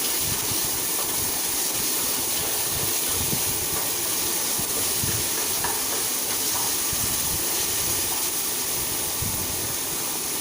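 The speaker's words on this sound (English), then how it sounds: "Fry the onions till it turns into a golden color." Chopped onions fry steadily in a hot pan for a baby corn vegetable biryani, giving a continuous, even sizzle with faint stirring scrapes and no voices.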